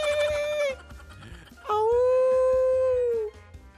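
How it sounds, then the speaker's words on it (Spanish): Dog howling as the sound in a guessing game on a TV show, two long wavering howls, the second louder and sustained, over a low rhythmic music beat. "Ah, el perrito, el perrito, el perrito."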